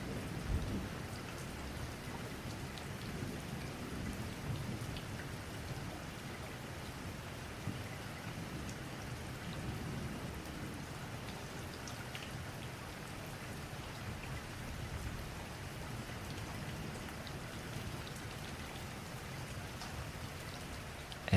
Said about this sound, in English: Some rain can be very quiet.